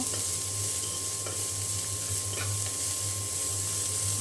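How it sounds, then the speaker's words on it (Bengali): Onion frying in oil in a pan, a steady close sizzle with a few faint stirring clicks and a constant low hum underneath, no voices. "পেঁয়াজটা একটু ভেজে নেব"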